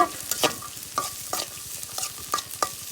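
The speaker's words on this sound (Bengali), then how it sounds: "মটরশুঁটি গাজর দিয়ে দিলাম এখন আমি নেড়ে ছেড়ে নিব" Noodles with peas and carrots being stirred in a pan: a spatula scrapes and taps in an irregular rhythm of sharp clicks over a soft, steady sizzle.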